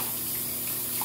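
Tap water runs in a steady, unbroken gush from a faucet as a bath is warmed for a puppy, close by with no voices.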